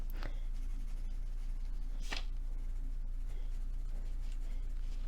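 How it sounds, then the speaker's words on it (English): A colored pencil moves across paper in soft, continuous scratchy strokes, close and quiet. Two or three brief louder scrapes stand out, and no one speaks. "pencil that I typically color with, so it's very much in my comfort zone"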